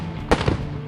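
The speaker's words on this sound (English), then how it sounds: "Drew pulled out his pen and sketched a super cool sandwich shooting cannon." A cartoon cannon fires sandwiches with a sharp booming blast, followed a moment later by a softer second thump, over a steady background of music and noise.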